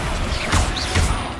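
The Confringo spell fires in Hogwarts Legacy: a fiery blast whooshes out, then two heavy low thumps land a moment apart, with a whistling swoop between them and no talk over it.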